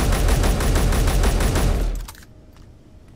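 Rapid automatic gunfire from a modded rifle in Space Engineers, a loud steady stream of shots that stops abruptly partway through, followed by a quiet tail while someone talks over it.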